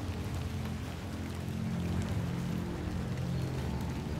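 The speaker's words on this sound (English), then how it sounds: "I love the rain effects." Steady game-world rain in The Excavation of Hob's Barrow, a constant low, dense wash of falling water with a soft patter, even and unbroken throughout, with no voices.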